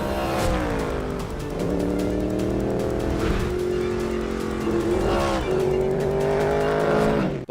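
A loud Ford Mustang GT3 race car's 5.4-liter V8 engine roars and revs continuously, the pitch climbing and dropping through gear changes, with a rough, throaty tone.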